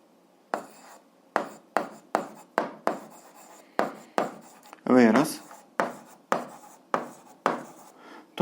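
Pen or chalk strokes writing out an eighth-grade algebra solution come as a run of short, close scratchy strokes in an uneven rhythm, with a brief squeak partway through.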